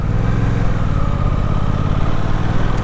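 A 2023 Suzuki GSX-8S motorcycle engine runs close and steady with a loud, throbbing low exhaust note and an even rhythm throughout, with no voices.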